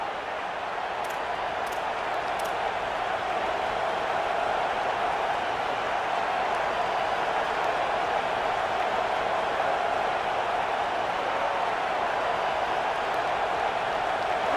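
Steady, dense stadium crowd roar from a college football video game, Alabama versus Georgia, holding at an even, loud level throughout with no breaks or talk.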